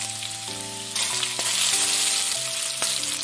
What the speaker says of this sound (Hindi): अभी उसमें मैं सरसों और जीरा का बघार लगा रही हूँ। साथ ही उसमें मैं प्याज डाल रही हूँ।